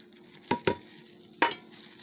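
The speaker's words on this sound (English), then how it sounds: "As you can see, mixing it gently." Topping ingredients for stove-to-oven mac and cheese gently mixed, giving three soft, brief utensil clinks against a quiet, faintly hissing background.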